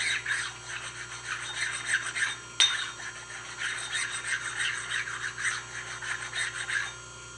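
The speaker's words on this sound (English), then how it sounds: "Now we'll put the stone to the part." A sharpening stone rubs back and forth across a Bridgeport vise jaw to knock off burrs, making a steady rhythmic rasping scrape with one sharp click partway through, close and fairly quiet.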